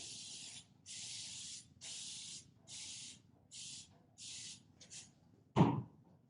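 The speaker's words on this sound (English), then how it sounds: "Not going to spray the sides as much." Paint sprayer hissing in six steady bursts of about half a second each, close and even, applying Dixie Belle paint, followed by a sharp louder clatter at the end.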